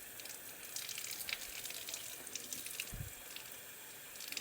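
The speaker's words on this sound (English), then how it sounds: "I'm just gonna wet it and let the water run right over the edge" Tap water runs over dry rice in a cooking pot, a steady close hiss of flowing, splashing water with no voices.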